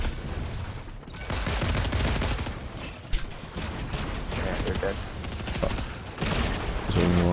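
Dense, continuous gunfire from a console tournament shooter video game, bursts overlapping one another throughout at close range, with game effects and some talk mixed underneath.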